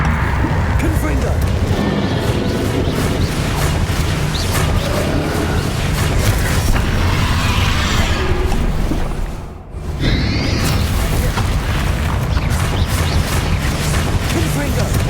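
Blasting-curse explosions during combat in the Hogwarts Legacy video game, loud booming bursts and whooshes piling up continuously, with a brief dropout near the end before the rumble resumes.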